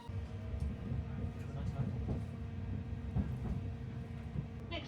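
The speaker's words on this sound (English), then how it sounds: "the train just pulled in on platform 5" A train rumbles in at a station platform on a snowy day, a low continuous roll with faint clacks and squeals, moderately close, under some indistinct background voices.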